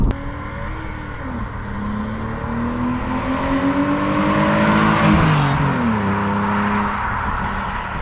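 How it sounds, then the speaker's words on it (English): A 2002 BMW 330Ci E46 with an M54 inline-six engine revs hard and loud, its pitch climbing and sliding through several gear-like steps over a steady rumble, with no voices. "This is the M54 engine"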